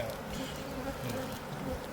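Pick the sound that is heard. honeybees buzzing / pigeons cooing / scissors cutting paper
honeybees buzzing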